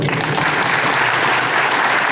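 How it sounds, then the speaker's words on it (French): Dense, steady applause from an audience at a 2019 contemporary art salon in Sallertaine, filling the whole stretch at even loudness with no breaks. "on peut l'applaudir très fort"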